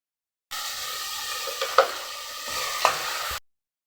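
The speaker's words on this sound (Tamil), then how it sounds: "தக்காளி கொஞ்சம் நல்லா வதங்கட்டும்." Tomatoes sauté with ginger garlic paste in a hot pan, giving a short, even sizzle up close with two distinct knocks of a spoon stirring against the pan.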